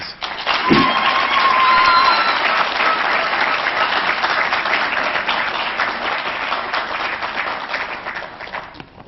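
Audience applause in a hall at an inaugural professorial address, a loud sustained round of clapping that swells early and then slowly thins out.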